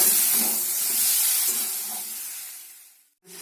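Mustard paste fries in a pan with a steady close hiss and sizzle that fades slightly toward the end, breaks off briefly, then returns.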